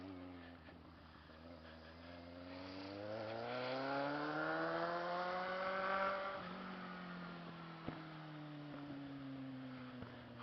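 A car engine revs with its exhaust roaring, the pitch climbing steadily over several seconds and then dropping back to a lower drone, loud and close, with no talk over it.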